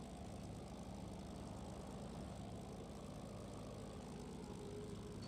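A Spitfire IX in a flight sim game runs at low power during ground handling, its engine and propeller giving a steady, continuous low drone that stays even throughout, with no voices.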